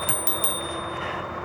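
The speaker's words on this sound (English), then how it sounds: "but I hit her twice with the bell" An e-bike's bicycle bell rings in three quick bright dings, close and clear over a steady hum of riding.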